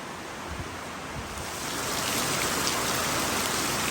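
Heavy rain in a storm drums on a surface, swelling louder after a moment into a steady downpour, with no talk.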